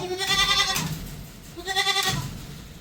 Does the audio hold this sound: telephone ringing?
no